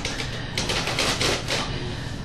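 Keys clatter on an old uppercase typewriter whose keys tend to stick, a dense close run of rapid mechanical taps that is loud and continuous, with no talking.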